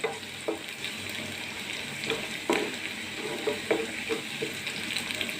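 Grated papaya lightly sautéing in oil for papaya pickle, with a steady low sizzle and occasional scrapes and taps of a stirring spoon, close and moderately quiet.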